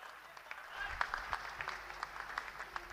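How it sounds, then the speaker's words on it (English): Audience applause at a civil aviation conference in Uttar Pradesh, following a speech: fairly faint, scattered clapping with distinct individual claps rising above a soft hall background throughout. "Can we have a huge round of applause for Shri Jyotiraditya M. Scindia ji"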